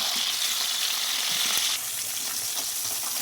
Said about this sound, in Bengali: মাছটাকে লবণ হলুদ মেখে এবার এটাকে ভেজে নেব